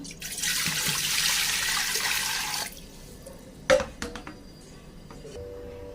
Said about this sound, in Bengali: এবার ভাতের জন্য জলটা রেডি করে নেব